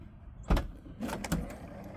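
A 2017 Tesla Model X power trunk closing by key fob, heard as a short motorized whir ending in two soft thuds about a second apart, fairly close with no talking.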